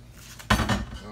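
A small metal pot is handled in a kitchen sink during peach jelly making, giving a sudden close clank followed by a second rattling knock, with quiet room noise on either side.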